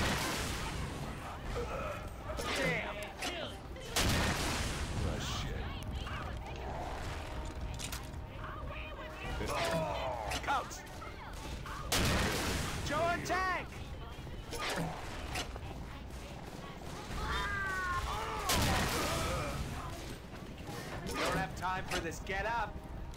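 Bursts of gunfire from players shooting at the Tank in Left 4 Dead 2 during the Prague finale ring out repeatedly, with loud shots rising and falling under frequent excited talking.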